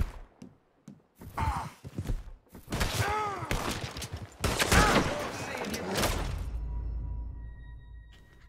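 Gunfire aimed at the player in Red Dead Redemption 2, with several loud cracks and bursts packed into the first half, followed by a sustained low rumble and a fading tail.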